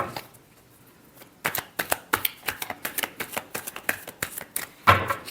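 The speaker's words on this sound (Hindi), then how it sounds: "Last shuffle." Tarot cards shuffled by hand in rapid bursts of crisp riffling flicks, close and fairly loud, a brief quiet pause before the rhythmic shuffling starts.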